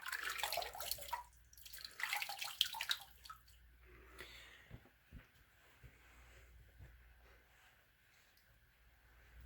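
Tap water running while rinsing off after a shave, a loud splashing rush for the first few seconds that gives way to faint drips and quiet handling noises, with no talk.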